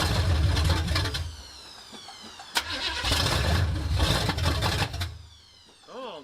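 A Chevy C10 squarebody truck with a 350 V8 and no choke cranks and fires, then revs loudly through several bursts before dropping back toward idle, close by.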